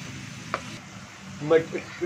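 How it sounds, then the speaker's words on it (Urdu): Boiled peas and carrots tossed and stir-fried in a pan, a low, quiet sizzle with a few scraping stirs toward the end. "اب ہم نے اس میں مٹر ڈال دینے ہیں انہیں مکس کر لیتے ہیں فرائی کرنا ہے ہم نے ان دونوں چیزوں کو"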